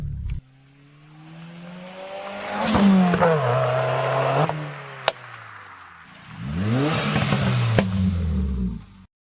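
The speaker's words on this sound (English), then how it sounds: "the STI has the unequal length headers, which makes that rumble noise." A 2015-or-later Subaru WRX STI with unequal-length headers revs twice, its exhaust rising into a throaty, lumpy rumble and falling back, with a sharp click between the bursts and no talk.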